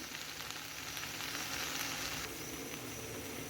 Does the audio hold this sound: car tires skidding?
no